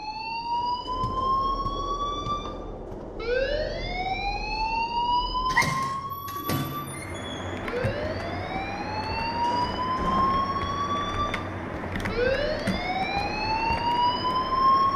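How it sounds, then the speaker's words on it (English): A rising, wailing alarm sounds over and over at a school in the video game Life is Strange, each sweep climbing in pitch, steady and loud, with a brief clatter partway through. "please turn off that alarm since that's your job"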